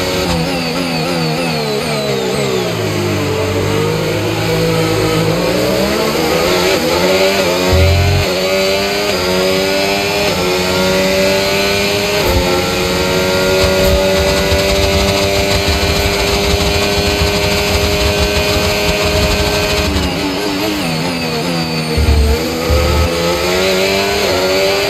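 A Formula 1 race car engine in the F1 25 racing game, a loud high-pitched whine rising and falling through gear changes and sustained acceleration, with no voices.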